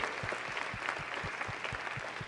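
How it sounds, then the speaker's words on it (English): A leadership summit audience applauds a speaker, a faint, distant wash of clapping with soft low thumps repeating at a steady pace beneath it. "One more round of applause, please."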